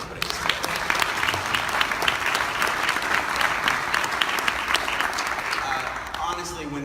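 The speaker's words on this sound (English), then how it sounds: "can we get a round of applause for AHP for putting this together?" Summit audience applauding the organizers, dense steady clapping from a sizable crowd throughout, fading slightly at the end with a voice entering.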